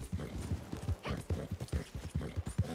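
A horse's hooves clip-clop in a steady, quick rhythm in the Red Dead Online video game, close and even, with no voices over them.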